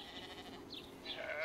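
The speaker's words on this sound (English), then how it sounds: "Hi, I'm a baby goat." A baby goat bleats in short, wavering cries, fairly close and alone, building slightly louder toward the end.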